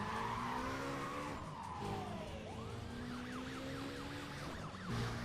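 Car tires skid and squeal in the Need for Speed World racing game, with engine drone throughout and a wavering siren-like tone partway through. The sound is loud and continuous, and no one talks.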